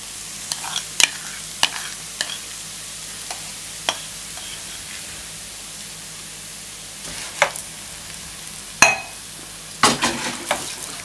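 Mashed tapioca being cooked in a pan with its spice paste: a low sizzle runs under scattered sharp scrapes and clicks of a spoon stirring against the pan, fairly quiet and close.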